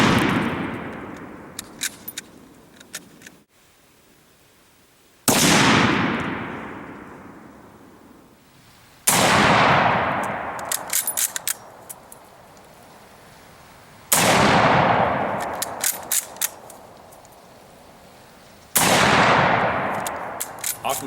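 Five loud, close rifle shots from a Mosin Nagant M44 carbine firing 7.62x54R rounds, each a sharp crack with a long rolling echo, spaced about four to five seconds apart outdoors with no talk.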